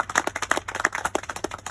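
A crowd claps in applause at a ribbon-cutting ceremony for County Road 243, a steady patter of many hands lasting under two seconds.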